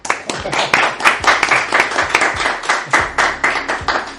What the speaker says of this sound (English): why don't we just give him a round of applause?